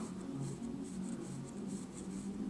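A pencil drawing lightly across paper during a homeschool art lesson: a steady, soft scratching with gentle back-and-forth strokes, continuous and close, with no talking.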